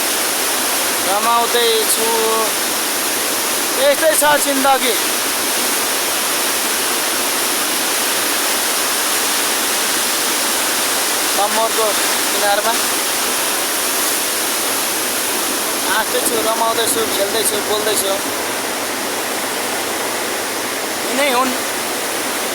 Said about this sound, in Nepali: कति ठुलो छालहरू यहाँ छ भन्ने कुरा देख्नुहुन्छ हजुरहरूले